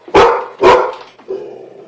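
Indoors, a dog gives two loud, sharp barks close by, then a shorter, softer whining note, with no one speaking.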